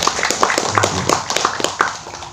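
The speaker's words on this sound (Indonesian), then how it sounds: "Tepuk tangan untuk beliau" Audience applauding a certified national traffic trainer at an Indonesian early-age traffic awareness event, a thin scattered clap of a few hands, quick and uneven, fairly close.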